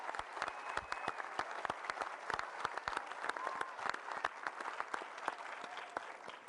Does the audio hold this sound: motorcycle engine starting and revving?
no